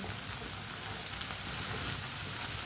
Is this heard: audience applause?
no